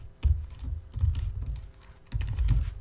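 Rapid keystrokes on a computer keyboard while writing Swift code, coming in two or three dense bursts of close, crisp clicks with short pauses between them, no voice.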